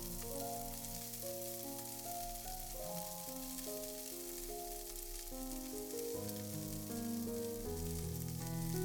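Sliced okra pan-frying in oil gives a steady, soft sizzle with a faint crackle, continuous and fairly quiet, while quiet tonal notes run underneath.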